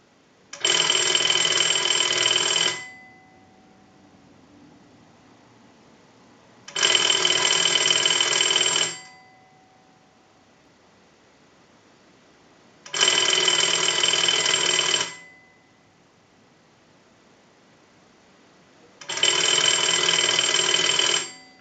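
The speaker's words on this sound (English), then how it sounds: "we'll go ahead and start that ring cycle, and you'll see what I'm talking about." Western Electric 236G-3 slot payphone's mechanical bell ringing loud and close in four even bursts of about two seconds each, separated by roughly four seconds of near silence, with no voices.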